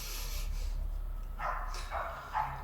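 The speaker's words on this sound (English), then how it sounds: "If it's not the cockerel, guys, it's the dog barking." A dog barks a few times at a distance in rural Portugal, short muffled yelps standing out over steady low background rumble.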